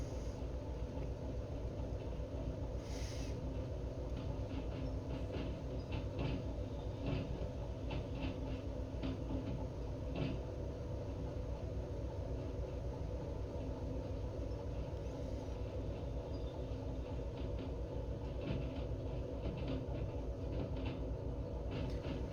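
Freight wagons roll steadily along the track in Derail Valley, a continuous rumbling clatter with faint repeated clicks of wheels over rail joints and no talking.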